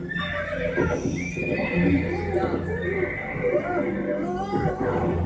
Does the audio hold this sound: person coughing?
no